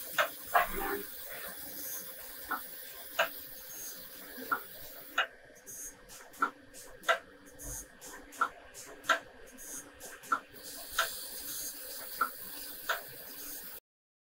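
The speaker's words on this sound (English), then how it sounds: "Press start and the machine moving." An automatic two-blade diamond ball cutting machine running in a workshop, with regular sharp ticks about once a second over a steady faint mechanical whine and hiss.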